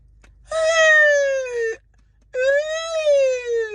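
A voice imitates a siren wail, with two long rising-and-falling tonal howls separated by a short pause, close and loud.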